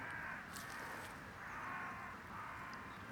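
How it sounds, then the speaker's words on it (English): Crows or rooks cawing in the countryside, a few faint, far-off harsh calls over a low outdoor background. "Accompaniment of crows there, or more likely rooks."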